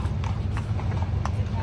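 Horse hooves clip-clopping at a strawberry festival in Benguet, a quick close run of hoof knocks over a steady low rumble and crowd chatter.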